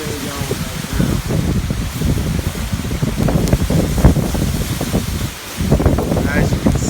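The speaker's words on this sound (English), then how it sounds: "As you can see the sustained wind is really intense, and then you get the gusts." Strong hurricane wind gusting through palm trees, with a loud, continuous roaring rush that surges in buffeting gusts and dips briefly into a short lull before rising again.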